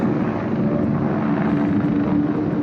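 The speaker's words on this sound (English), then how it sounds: "See that helicopter?" A helicopter hired to shoot aerial footage of a 125-year-old Dutch barge flies overhead, giving a steady, broad rotor and engine drone that holds constant throughout with no talk.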